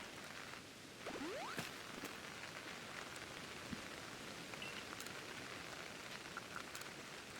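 Steady rain in a video game hisses as an even, unbroken wash. A brief rising whoosh sounds near the start, and faint scattered clicks come through over a low background.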